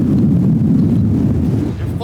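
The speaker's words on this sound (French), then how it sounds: "Il y a grave de vent." Strong wind buffets the microphone outdoors in Iceland, a steady loud low roar that fills the whole stretch with only slight dips, no voices standing out.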